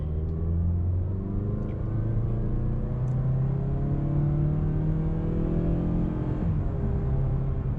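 A 2019 Mazda6 accelerates in non-sport mode, a steady low engine rumble with rising harmonic sweeps as it climbs through the gears, heard from inside the cabin with no talking.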